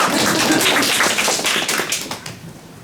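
A small group claps together in a room after a seminar talk, a dense, loud patter of many hands that carries on briefly, then thins and fades out over about three seconds.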